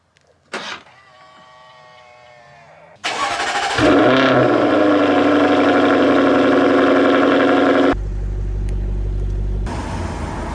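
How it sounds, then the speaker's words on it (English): A Jaguar F-Type R engine cranks and fires up loudly, flares in a sharp rev, then settles into a deep, steady idle close by, with a brief mechanical whir before the start. "let's fire up the Jag and go for a ride"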